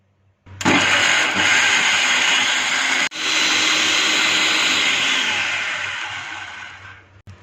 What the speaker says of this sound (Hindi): इन पीसेस को भी चॉपर मशीन में डाल देंगे।